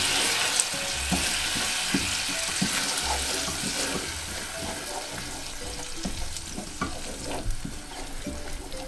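Vanilla being stirred into a hot sesame snaps candy mixture, a continuous bubbling sizzle with repeated scraping and knocking of a spoon against the pan, steady and close, no voices.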